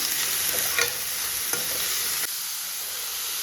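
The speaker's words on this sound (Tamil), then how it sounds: "கொஞ்சம் பீன்ஸு எல்லாமே போட்டு கொஞ்சம் வதக்கி விட்டுறலாம்" Beans and other vegetables sizzle steadily in a hot pan, with a few scraping stirs of a utensil and a continuous frying hiss throughout.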